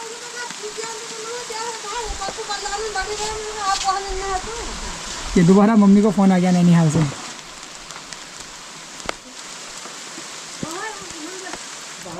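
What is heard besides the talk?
heavy rain falling outside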